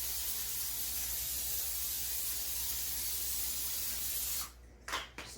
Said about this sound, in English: We're going to spray the bottom of it and the sides.